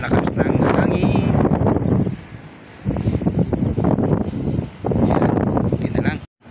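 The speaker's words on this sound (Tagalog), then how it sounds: "ang lakas ng hangin" Strong wind blasts across an open outdoor spot at sunset, roaring against the microphone in loud gusty bursts with two brief lulls before it cuts out near the end.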